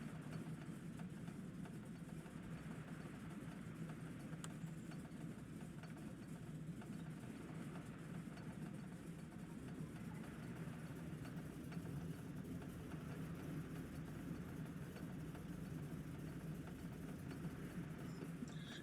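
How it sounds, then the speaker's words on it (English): A floatplane's engine idles steadily as it taxis on the water in misty Vancouver, a continuous low droning rumble at even loudness with no talk over it. "We have a successful engine start."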